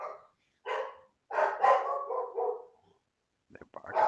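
Dogs bark in a series of close, loud barks and yips, with short pauses between bursts, no talking.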